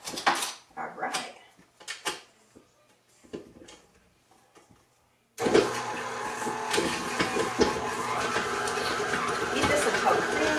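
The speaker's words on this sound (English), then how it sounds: "I'm going to beat this until creamy" Pie batter for a Kentucky Derby pie beaten until creamy with an electric mixer: a few light knocks and clinks at first, then a steady, loud whirring hum that runs to the end.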